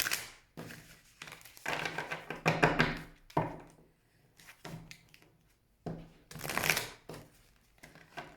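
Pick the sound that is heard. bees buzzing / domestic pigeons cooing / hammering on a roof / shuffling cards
shuffling cards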